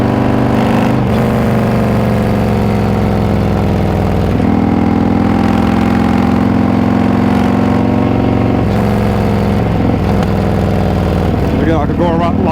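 A motorcycle engine holds a steady mid-range drone through a winter road ride, with some rises and falls in pitch and a brief lull around midway. There is continuous wind noise and a voice speaking over it.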